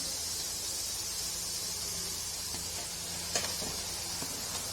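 Minced meat and onions sizzle steadily in a pot with a constant frying hiss, while a few faint scrapes and knocks of stirring break through near the end.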